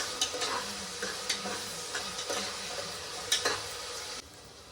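Onions fry to golden in a pan for mutton curry with a steady close sizzle, broken by periodic scrapes and taps of a stirring spoon, then a sudden drop in sound near the end.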